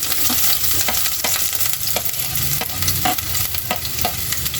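Garlic and onion frying in margarine in a thin pan, a steady crackling sizzle with repeated sharp scraping stir strokes, close and alone without talk.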